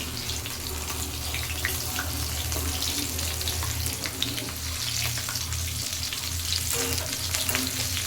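Soybean pakoras fry in hot oil in a pan, giving a loud, continuous close-up sizzle and bubbling with no talking.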